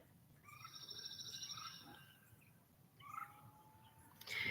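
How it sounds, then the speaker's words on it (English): A rain crow, a cuckoo, calls in the background outdoors in a rural hollow, sounding as faint, distant whistled and chirping notes in short bursts over a quiet, low hum, with one brief louder burst at the end. "what is that bird that we're hearing in the background? I've always heard them called a rain crow"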